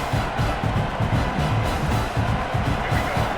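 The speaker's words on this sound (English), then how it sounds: "This crowd bringing the energy and noise early." Dense roar of a large football stadium crowd with rhythmic pulsing swells, like chanting or clapping echoing in the stadium, continuous and loud.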